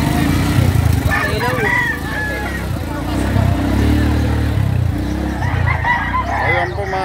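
Several native roosters crow in Calumpit, Bulacan, their calls coming in separate bursts over clucking and a steady crowd murmur, with people talking nearby.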